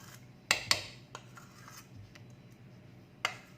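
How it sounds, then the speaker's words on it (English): A spatula scrapes vanilla cake batter from the sides of a mixing bowl, with a few sharp scraping clicks and knocks against the bowl spread over quiet, faint background noise. "I'm scraping out the batter from the sides"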